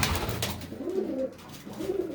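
Several pigeons coo in low, rolling calls, with two distinct phrases rising out of steady background noise, close and moderately loud.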